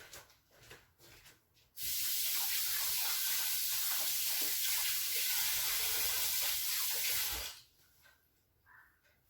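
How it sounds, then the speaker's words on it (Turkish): Hands rinsed under a running kitchen tap during pizza dough preparation: a steady, loud hiss of water gushes for about six seconds, then shuts off, with quiet rustling before and after. "Ellerimi bir yıkayım geliyor"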